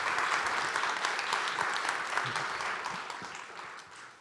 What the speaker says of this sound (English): could I get a round of applause for them?